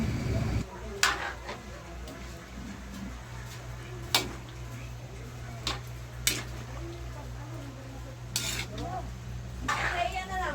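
Cabbage and carrots for pancit bihon are stirred in a pan with a utensil, giving sporadic clinks and scrapes against the metal over a steady low kitchen hum.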